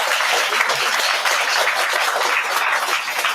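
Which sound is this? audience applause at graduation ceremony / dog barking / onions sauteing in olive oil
audience applause at graduation ceremony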